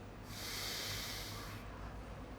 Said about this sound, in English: breathing out through the left